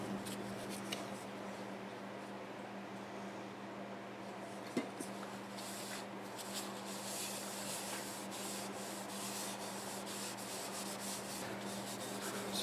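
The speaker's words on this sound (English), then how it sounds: "I'm going to put some sanding sealer on it now." Sanding sealer is rubbed by hand onto a turned black locust wood bowl, giving a continuous soft scrubbing, rasping friction with a steady low hum beneath and one brief knock midway.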